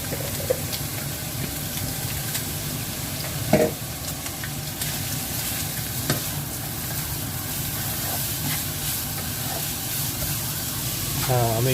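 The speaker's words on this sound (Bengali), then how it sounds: "একটু সল্ট পেপার দিয়ে সতে করতেছি" Carrots sauté for pork fried rice in a pan with pork, garlic, salt and pepper, giving a steady close sizzle with occasional stirring scrapes while someone talks over it.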